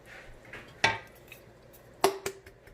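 A spoon clinks twice against a pot while lasagna sauce of diced tomatoes and ragu is mixed, with sharp metallic taps and soft stirring between them in a quiet room.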